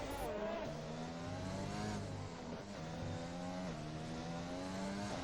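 A race car engine revs hard in a racing video game at Abu Dhabi, rising and dropping through several quick gear changes at steady high volume, with faint commentary voices underneath.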